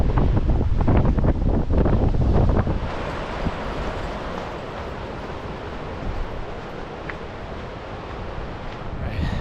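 Strong wind buffets the microphone on a mountain canyon trail in Farmington Canyon, Utah, a loud rushing roar that gusts hardest at first then settles into a steady blustery hiss.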